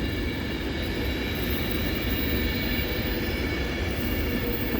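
A Class 350 electric train on a Birmingham New Street service passes at Stafford on the West Coast Main Line, giving a continuous, steady rumble with faint rail hiss throughout and no voices.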